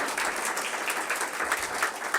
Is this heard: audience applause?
yes